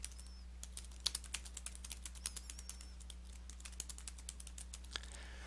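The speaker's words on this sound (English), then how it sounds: "then you begin typing your first line" Steady typing on a computer keyboard with quick irregular clicks, fairly close, over a low constant hum; no voices.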